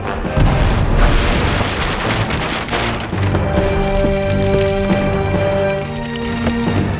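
Broadside of 18-pounder naval cannons firing aboard a ship, heavy booming blasts in close succession with crackling debris and rumbling between shots.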